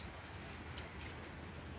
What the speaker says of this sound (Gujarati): એટલો વરસાદ ચાલુ હોય ને ઝીણો ઝીણો